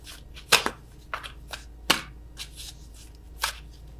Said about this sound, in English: I am awful at attempting to shuffle these.